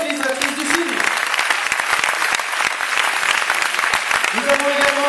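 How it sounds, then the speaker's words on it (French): An audience applauding a film's director at a film presentation, steady loud clapping from a crowd filling the room, with a voice speaking over it at the start and end. "je vais vous demander d'applaudir bien fort Axel Roper, la réalisatrice du film"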